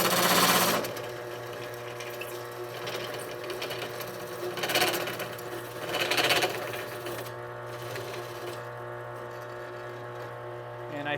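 A power drill whirs steadily for about eleven seconds as it widens a hole to 1 1/4 inch during assembly of a model superstructure, with slight surges in pitch partway through and no talking.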